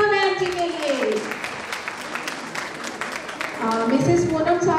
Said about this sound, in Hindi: या जोरदार तालियां चित्रा मैम जी के लिए।